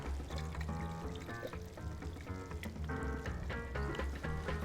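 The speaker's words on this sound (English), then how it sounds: "Just want to add a little bit of Worcestershire sauce." Worcestershire sauce poured into a hot pan of beef stroganoff, hitting it with a brief sizzle and splatter over steady frying, close and fairly loud with no talking.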